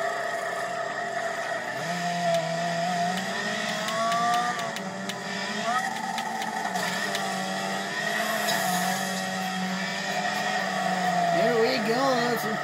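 Car engine revving steadily in the demolition racing game Wreckfest, a continuous droning motor with rising and falling pitch throughout, accompanied by game effects and a voice talking over it.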